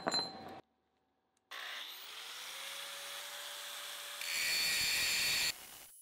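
A grinding disc on an angle grinder cutting into a 1-inch steel bar gives a steady high, harsh whine that rises to a louder, brighter grinding stretch, after a short pause.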